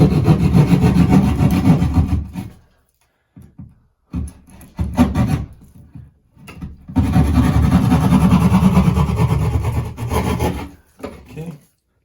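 A saw cuts through a wall to open a hole for an electrical outlet box, with a drain pipe behind it. It comes as loud, close rasping strokes in several bursts separated by short pauses.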